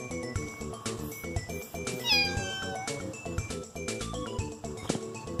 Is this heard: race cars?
no